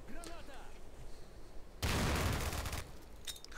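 A grenade explodes in the shooter game S.T.A.L.K.E.R., a sudden loud burst that rumbles for about a second amid scattered gunfire, with someone speaking faintly beforehand.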